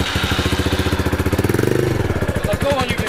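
A 250cc motorcycle engine revs up close, its rapid pulsing rising in pitch and then settling back, loud and continuous.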